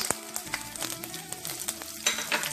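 Raisins frying in a pan for a Kerala banana and broken-wheat payasam, giving a close, crackly sizzle with scattered pops and spits throughout the short stretch, with no voices.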